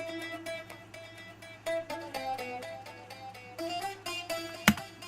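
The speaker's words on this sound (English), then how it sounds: "but I ended up finding a bouzouki here" A bouzouki phrase is played alone, its bright plucked metal strings ringing out in quick picked notes and short melodic runs, with a sharp percussive click near the end.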